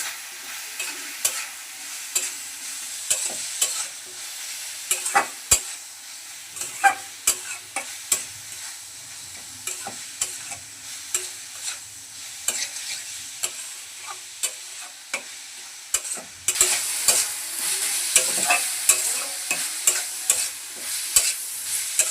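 Fried potatoes are stirred into a simmering banana blossom curry in a pan, with a continuous sizzle under repeated spatula scrapes and knocks against the pan; the sizzle grows louder and brighter toward the end.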